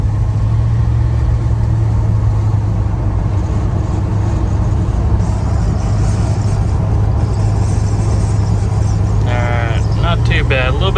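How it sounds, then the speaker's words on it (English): Steady, loud low rumble of road noise inside a 1987 Dodge Ramcharger truck driving around town on knobby tires, continuous throughout with a brief voice near the end. "We can hear the knobbiness of the tires."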